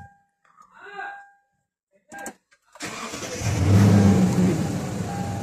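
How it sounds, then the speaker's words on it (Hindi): A Lexus 570 SUV cranks over and its engine catches after a short pause, then settles into a loud, steady idle close by, following a few quiet clicks and chimes. "अब गाड़ी स्टार्ट करते हैं"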